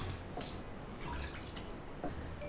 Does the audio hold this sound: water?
yes